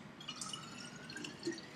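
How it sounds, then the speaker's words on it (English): Homemade kombucha brew pours from a large measuring cup into jars for a second ferment, soft liquid trickles and drips, faint and close, with no talking. "So I pour it in almost all the way to the top."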